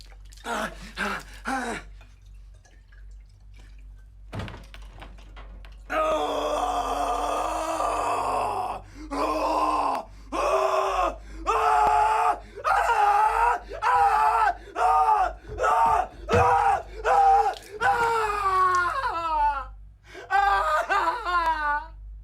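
A man's anguished screaming and groaning scene from the film Mandy, set in a bathroom where he sits on the toilet drinking vodka; repeated loud cries and wails in bursts, with strained gasps between them.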